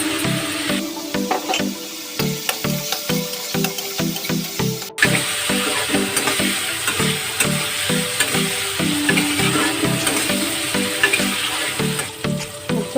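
Rice and spices are stir-fried in a pan, giving a steady sizzle broken by rhythmic scraping strokes from the spoon at close range, with faint music in the background.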